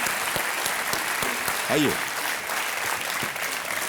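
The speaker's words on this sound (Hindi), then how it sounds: "आपका अभिनंदन करते हैं एक बार फिर तालियों के साथ।" Studio audience applause on a TV quiz show, a steady dense wash of clapping that runs throughout, with a host's voice speaking briefly over it.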